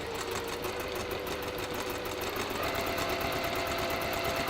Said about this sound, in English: I'm just going to pin those together and then we'll just sew that along there.